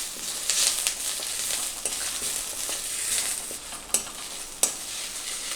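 Curry leaves roasting briefly in a hot pan for a Tamil curry leaf thuvaiyal, a bright continuous sizzle with a few sharp clicks of a spoon stirring near the end.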